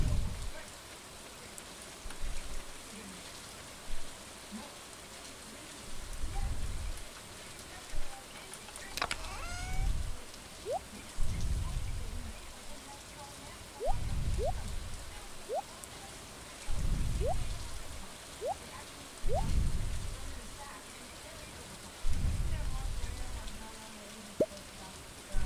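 Steady rain patters throughout a Stardew Valley game scene, a soft, even hiss with repeated low thumps and short chirping blips over it, no voices heard.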